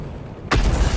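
A tank cannon fires in a tank video game, one sudden, loud, deep boom that bursts in after a quiet moment and rolls on briefly, with no talking.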